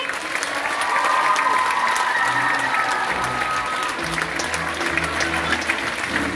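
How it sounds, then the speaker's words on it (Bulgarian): Audience applause at a school's annual ballet performance in Burgas, a sustained, full round of clapping from a large crowd, with a low musical tone rising underneath partway through. "На Виолета Германова аплодисменти!"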